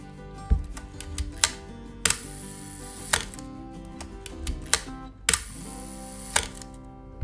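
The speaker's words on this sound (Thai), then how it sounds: "ทั้งหมดนี้ก็เป็นวิธีการเทสชัตเตอร์แบบคร่าวๆนะ" A film camera shutter fires repeatedly during a manual shutter speed test, giving sharp mechanical clicks spaced roughly a second apart over a faint background hum.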